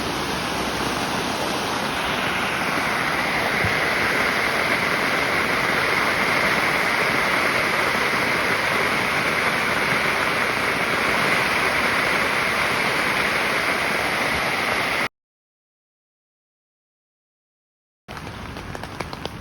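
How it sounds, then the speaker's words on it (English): Strong wind roaring steadily at a campsite in Tyler State Park, a loud constant rushing gust against a tent that cuts to silence, then returns briefly. "now we've got some serious wind coming up"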